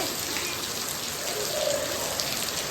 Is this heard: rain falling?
yes